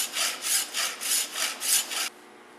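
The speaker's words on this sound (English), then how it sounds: "After cutting off this plastic piece," A saw cuts a plastic piece off a stainless steel apple coring tool in seven quick, even back-and-forth rasping strokes, close and fairly loud, then stops abruptly.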